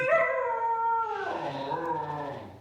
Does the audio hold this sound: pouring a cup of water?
no